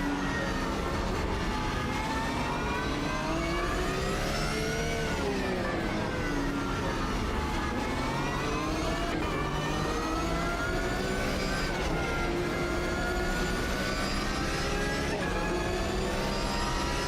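Safety car engine in the Automobilista 2 racing game, a dense, steady drone that rises and falls in pitch as it accelerates and shifts, loud and continuous from start to finish, with a voice faintly present.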